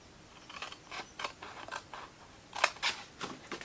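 Scissors snipping a small bevel into material, a series of short crisp cuts in an uneven rhythm, close and fairly quiet, with two sharper snips near the end.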